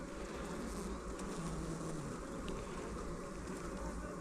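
A honeybee buzzes close to a beekeeper's hat during a farm hive inspection, a steady, continuous drone that stays near and fairly loud for the whole stretch, with no talking.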